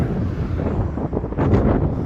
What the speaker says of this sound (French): On voit encore des drapeaux là, le vent là, qui souffle.